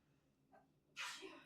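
A single sharp sneeze bursts out near the end, loud and close, preceded by a faint quick inhale.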